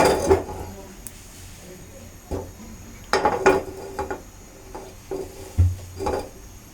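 A frying pan set down on a kitchen stove while making patishapta pitha, with several sharp metallic clanks and knocks spread across the moment, close and moderately loud.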